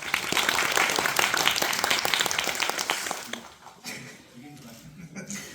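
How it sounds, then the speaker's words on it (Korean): A theatre audience at a musical's final-performance curtain call applauds loudly and densely for about three seconds, then fades as a speaker resumes talking. "우리 박수 한번 부탁드립니다."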